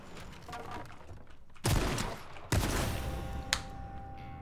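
Gunfire in the video game H1Z1, with two loud sharp shots about a second apart and a smaller crack afterward, standing out over a quieter game background.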